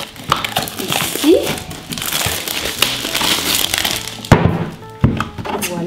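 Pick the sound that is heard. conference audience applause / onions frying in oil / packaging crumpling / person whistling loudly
packaging crumpling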